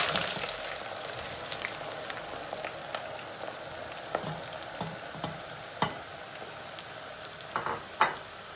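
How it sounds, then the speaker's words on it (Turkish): Continuous crackling sizzle of eggplant frying in hot oil, with occasional sharper pops and clinks of utensils, close and steady throughout. "Hemen patlıcanlarımızı kızartıyoruz."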